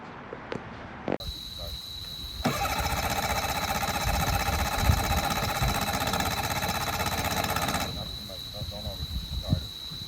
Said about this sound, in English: And now we can start the engine when it's out of the water.